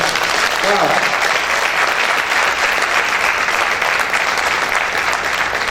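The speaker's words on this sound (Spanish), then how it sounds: "Dale un fuerte aplauso al Señor." A large church congregation claps loudly and continuously, a dense, steady wash of applause filling the room without pause.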